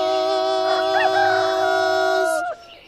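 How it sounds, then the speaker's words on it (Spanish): A rooster crows one long, loud, sustained cock-a-doodle-doo close by, holding a steady tone for over two seconds before breaking off sharply. "Ya están cantando los gallos."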